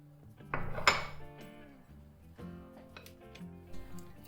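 A spoon clinks and scrapes against a bowl while vanilla essence and sugar are stirred together, a few close, bright taps and knocks followed by softer scraping.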